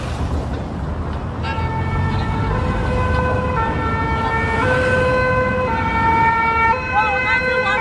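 An ambulance siren wails, rising and falling steadily over the rumble of road traffic on a major Paris road, fairly close and loud throughout.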